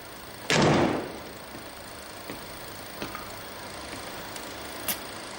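A door slams shut once, loud and close, a heavy thud in a quiet indoor room, followed by a few faint small knocks and clicks.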